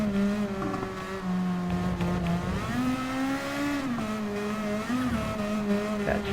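A Super GT500 race car in Gran Turismo Sport howls around a rain-soaked Spa circuit, its steady engine note climbing and falling through gear changes with faint tyre noise underneath, close and continuous.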